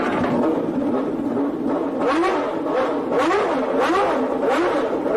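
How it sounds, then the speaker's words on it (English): A Ferrari 641 V12 Formula One car accelerates hard on a wet private test track, its engine snarling through repeated rising revs and gear changes, loud and close, with a harsh, high-pitched wail. "The 12-cylinder engine snarls as Mansell accelerates away"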